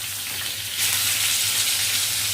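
Pointed gourd (potol) fries in a pan, giving a steady close sizzle that swells suddenly louder and brighter partway through, with a faint low hum beneath and no voices.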